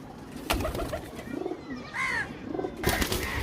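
Pigeons for sale coo in short throaty bursts, several soft calls close by over a faint background of rustling and handling.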